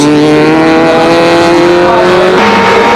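A Daihatsu Charade 1.6-litre rally car at full throttle on a forest stage, its engine a loud, steady high-pitched drone that shifts in pitch near the end as it works through the run.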